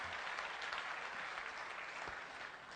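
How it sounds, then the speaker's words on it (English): Audience at a business summit in Bangladesh breaks into a big round of applause for award applicants, steady dense clapping throughout, fairly close and even in loudness with no talk over it. "give a big round of applause"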